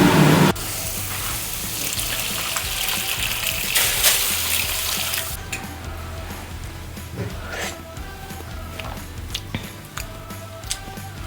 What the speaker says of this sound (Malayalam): നമ്മൾ ഇനി ഇതിലേക്ക് തിളച്ച വെള്ളം ഒഴിക്കാൻ പോവാം